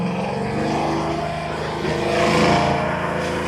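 A 1969 Chevrolet Chevelle SS restomod with a 632 big-block engine runs steadily in a deep, continuous rumble that swells slightly midway, heard alone and up close.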